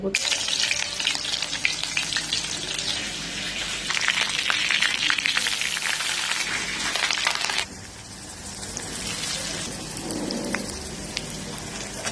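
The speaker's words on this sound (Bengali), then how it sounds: "তেল গরম হয়ে গেছে তার জন্য পেঁয়াজ কলি দিয়ে দিব" Spring onions hit hot oil in a pan, giving a loud, dense, continuous sizzle like heavy rain close by that eases a little partway through and then carries on.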